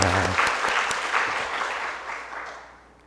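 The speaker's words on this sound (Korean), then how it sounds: "우리 함께 감사의 박수 드리도록 하겠습니다" A church congregation claps through a Sunday morning service in a sustained burst of dense applause that is loud at first and then gradually fades away over a few seconds.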